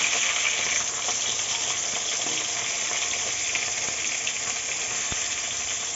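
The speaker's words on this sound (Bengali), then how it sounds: "মাছ ভাজা বসিয়েছি" Fish sizzles in hot oil in a frying pan, a loud, steady crackling hiss close by that carries on without pause and with no voices.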